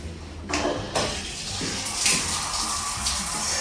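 Water gushes from a shower tap and keeps running steadily, a broad splashing rush that swells after a moment and continues to the end.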